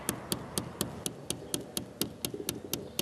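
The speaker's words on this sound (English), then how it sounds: "First you start off with that tap." A hand tapping out a quick, even beat, about a dozen crisp close taps in a steady rhythm over faint room hiss.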